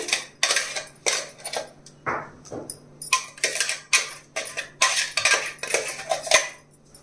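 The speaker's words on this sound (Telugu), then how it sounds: "నేను ఒక గాజు బౌల్లోకి తీస్తున్నానండి" A spoon repeatedly scrapes and taps against a glass bowl while scooping chutney, in a quick, irregular series of clinks and scrapes, close up and with no talking.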